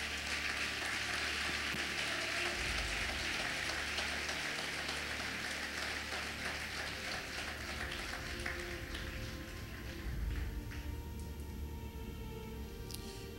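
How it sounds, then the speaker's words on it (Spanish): A church congregation clapping during a sermon, a dense, continuous patter of many hands that holds steady throughout, fairly faint and diffuse like a large room heard from a distance. "Dale fuerte el aplauso al Señor"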